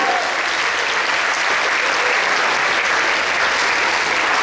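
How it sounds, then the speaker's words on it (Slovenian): A large audience at an outdoor summer theatre reception for young talents breaks into big, loud, sustained applause, a dense continuous wash of clapping with no talk over it. "Zdaj date povem tak velik aplavz."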